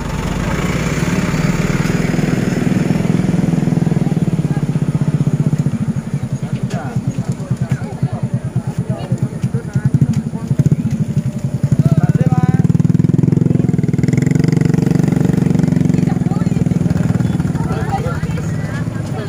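A truck engine idles and rumbles close by, with a stretch of rougher, pulsing revving in the middle, while people talk over it.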